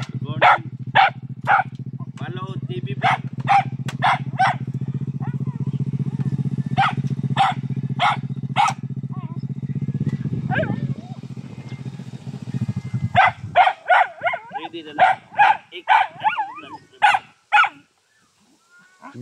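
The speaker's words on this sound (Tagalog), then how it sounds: "sinalubong na siya ng kanyang aso" A dog barks repeatedly in sharp bursts over a low engine drone, which cuts out midway; more rapid barks follow close by.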